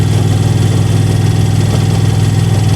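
The engine of a 2001 Moto Guzzi EV80 Anniversary motorcycle drones steadily while riding. It is a loud, constant low rumble with a dense mechanical hum and no breaks.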